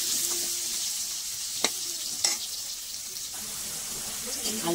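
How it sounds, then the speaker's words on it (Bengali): Potatoes fry in hot oil in a pan on a gas stove, a continuous sizzle with occasional stirring scrapes and clinks, close and steady. "আলুগুলো একটু ভাজা হোক"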